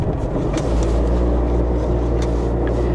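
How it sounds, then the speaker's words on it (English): An axle shaft grinds on a Mustang with air-ride suspension, a steady low droning rumble with faint scraping that stays constant throughout, with no talk. "Grinding away. I swear that's an axle shaft."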